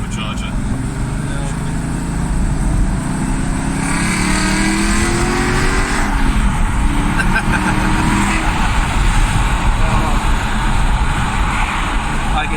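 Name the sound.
supercharged car engine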